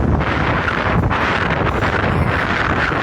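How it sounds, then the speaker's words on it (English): Strong gusting wind from a hurricane-season storm roars steadily into the microphone, a dense, continuous rush with constant buffeting and no pauses, loud and close throughout. "See that wind?"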